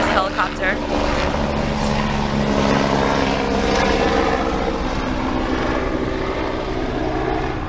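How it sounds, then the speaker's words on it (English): A helicopter passes over an outdoor spot in São Paulo, Brazil, its steady rotor and engine roar loud and broad and holding for the whole stretch, with a voice speaking over it. "there's a helicopter"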